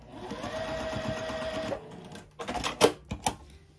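A sewing machine runs in a steady stitching burst while piecing a small quilted mug rug, then stops, followed by a few sharp handling clicks and taps close by.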